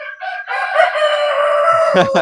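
A rooster crows loudly and close by on a farm keeping imported chicken breeds; the long, strained call holds steady for almost two seconds, with brief clucking chicken sounds before it.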